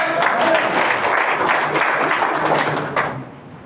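Loud applause from an audience at a health talk, a dense, steady clatter of many hands clapping that holds for several seconds before thinning out and fading near the end.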